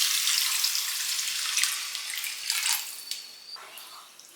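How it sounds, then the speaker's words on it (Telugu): Water poured from a glass into simmering egg curry gravy, a soft steady splashing rush that fades over a few seconds, heard alone at close range. "తర్వాత ఇప్పుడు మనం 1 గ్లాస్ నీళ్ళు యాడ్ చేసుకుందాం."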